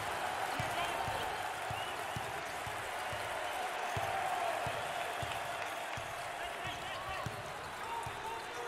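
Crowd in a college basketball arena, Cincinnati at Houston, applauding and cheering in a steady, dense roar throughout, with faint rhythmic ball bounces underneath and a commentator talking over it.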